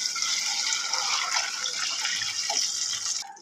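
Water poured steadily into a pot for aloo pulao, a continuous bright splashing stream filling the vessel, cutting off at the very end.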